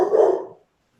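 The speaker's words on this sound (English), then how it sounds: "the big giant barking noise behind me, that would be my black lab puppy" A black Labrador puppy lets out one loud, close bark that fades away within about half a second, followed by silence.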